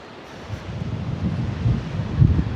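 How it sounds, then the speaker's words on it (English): Wind gusts at a Patagonian beach resort, a low rumbling buffet against the microphone that builds over a couple of seconds, with a faint wash that could be surf underneath. "And it's a bit more windier."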